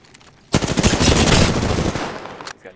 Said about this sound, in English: somebody's shooting us with the Kraber